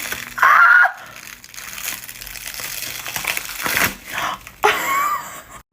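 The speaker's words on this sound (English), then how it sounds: "I'm just gonna like peel it." A Venom special effects makeup prosthetic is peeled off the face. Close, loud crinkling and rubbery crackles come in bursts, with quieter tearing and rustling between them.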